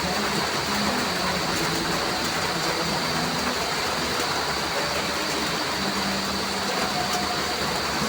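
Midday rain on a rainy day pours steadily, a continuous even hiss of dense drops that stays constant from start to finish, with no talk.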